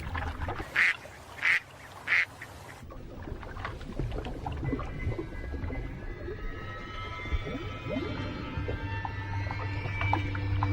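Three clear, close duck quacks sound in quick succession from birds on water, followed by a long stretch of quieter splashing and ambient water sounds.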